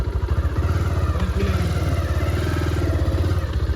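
A motorbike engine runs on a slope, a steady throbbing putter that is close and fairly loud and continues without pause.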